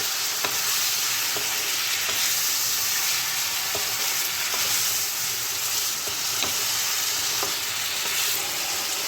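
Chicken fries with onions in a pan for a Bengali chicken and potato curry, making a constant loud sizzle up close, punctuated by regular sharp taps and scrapes of a stirring spoon.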